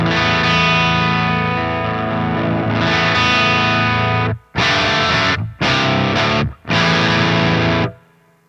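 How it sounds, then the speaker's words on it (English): A high-gain baritone electric guitar fitted with a Seymour Duncan Ragnarok humbucker, played straight in: loud, heavily distorted sustained chords, then a run of short choppy bursts separated by sharp silences, ringing out at the end. "Okay, I've got my ML3, a Baritone. This has the Ragnarok in it."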